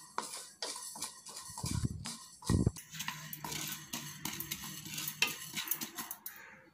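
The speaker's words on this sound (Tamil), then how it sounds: "இதையும் நம்ம கொஞ்சம் நல்லா வாசனை வர வரைக்கும் வதக்கிக்கலாம்." Urad dal being stirred and dry-roasted in a pan, with scraping clinks of a utensil against metal and heavier bursts of stirring around the middle, close and continuous with no talk.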